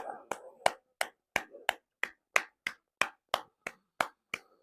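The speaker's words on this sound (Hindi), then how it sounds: "इसके बाद नारायण नाम की 108 ताली है।" Rhythmic hand claps during Narayan name chanting, a counted series of 108 claps. About fourteen sharp, evenly spaced claps sound close and loud, with brief vocal sounds between some of them.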